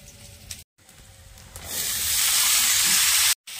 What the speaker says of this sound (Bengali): এবারে আলু আর টমেটো দিয়ে দিচ্ছি